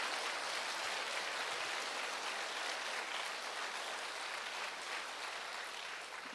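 A large conference audience in a hall gives sustained, dense applause that holds steady and fills the space evenly, with no voices breaking through.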